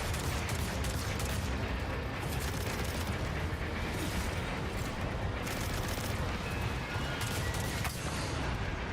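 Dense, continuous weapon fire in Destiny with rapid overlapping shots and booming impacts over a steady roar of game noise throughout.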